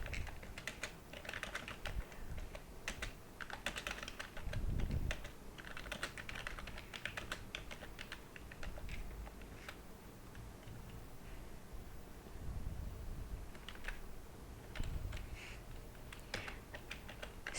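Steady typing of code on a computer keyboard, quick irregular key clicks at close range, faint and alone.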